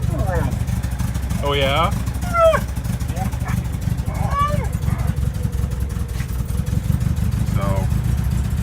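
A 1964 International Scout 80 engine cranks over and catches, settling into a loud, steady low rumble close by, with people talking briefly over the running motor.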